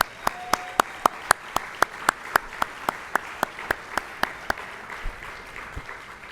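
Applause at a school athletic awards evening honouring Mr. Abbott, the athletic program leader: sharp, evenly spaced claps in a steady rhythm ring out near and loud above a softer wash of crowd clapping, with no talk.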